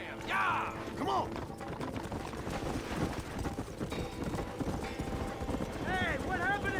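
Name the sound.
horses galloping in the video game Red Dead Redemption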